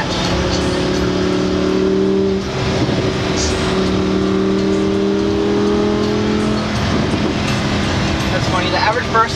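A Ferrari FF with a V12 engine drones steadily from just behind, a continuous engine tone holding under people talking inside a Lamborghini, with a brief dip partway through before the sound carries on.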